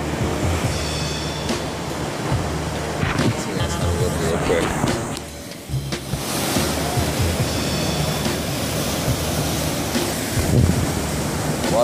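Wind gusts and waves wash along the shore of a high, muddy lake at Lakeview Park in Oshawa, a loud continuous roar with heavy wind buffeting on the microphone and a brief lull midway.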